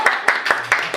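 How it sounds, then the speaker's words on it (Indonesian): A few sparse, evenly spaced hand claps from an audience at an election supervisory agency event, about five distinct claps in quick succession at moderate volume. "Itu berarti Bawaslu Kota Semarang tepuk tangan dulu."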